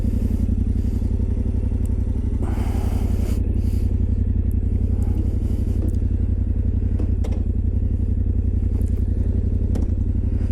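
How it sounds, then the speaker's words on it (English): A Yamaha Tenere 700 motorcycle engine drones steadily as the bike is ridden, a loud continuous low rumble with occasional light clatters and knocks, with no talking. "let's get on the bike and take it for a quick ride"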